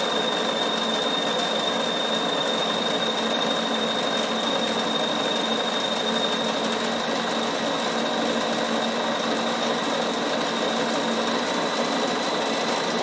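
A Bernina embroidery machine stitches a Mylar appliqué with a steady, rapid mechanical whir and fine needle chatter, close and constant for the whole stretch, with a thin high tone running beneath it and no voices.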